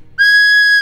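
A flute blown like a whistle gives one steady, piercing tone with bright overtones. It is held for most of a second, loud and close, with no voices.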